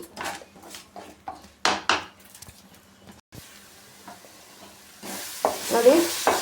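A spoon scrapes rhythmically around a pan of coconut and mustard masala for Udupi-style rice, followed by a soft, steady sizzle of the mixture slowly frying in oil.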